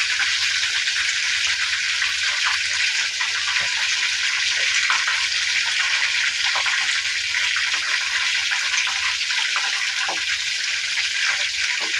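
Spice paste of ground ginger, garlic, onion and cashew nuts fries in a pan for a chicken roast, a steady, loud hiss and sizzle running throughout with occasional soft stirring sounds and no talking.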